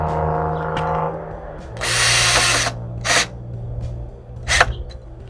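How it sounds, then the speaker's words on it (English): A power screw gun with a magnetic-tip Phillips bit, set to drill mode, drives screws while building a fence, whirring in several bursts: one long run, then two short spurts, over a steady low hum with a few faint clicks. "pull out my screw gun, which has a magnetic tip in it and a Phillips bit in it"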